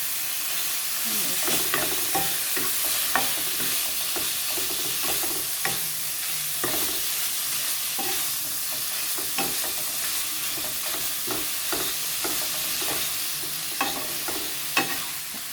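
Pork stir-fried with salt and fresh chili in a hot pan, with a loud continuous sizzle and frequent spatula scrapes and clatters through the whole stretch, close up with no speech.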